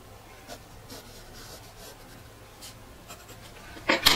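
Pencil lines being darkened on paper during a two-point perspective stage design drawing, heard as soft, faint scratchy strokes in short bursts, ending with a louder brush or rub near the close.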